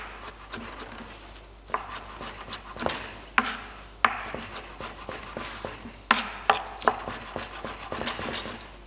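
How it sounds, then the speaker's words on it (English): A knife chops on a cutting board in irregular, crisp taps, some sharper and louder, with soft scraping between strokes; close and no talking. "we have to chop the tomatoes"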